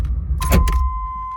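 Car keys jangle inside a 1991 Pontiac Firebird, a brief metallic rattle over a low engine rumble, followed by a steady electronic warning chime.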